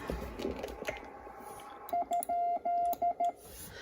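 A Morse code question mark keyed on a Bencher CW paddle: six crisp tone bursts in a short dit-dit-dah-dah-dit-dit pattern, clear and close after a moment of quiet room noise.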